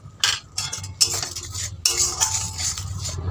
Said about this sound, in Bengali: জল দিয়ে নাড়াচাড়া করবো।